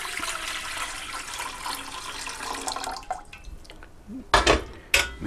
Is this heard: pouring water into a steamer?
yes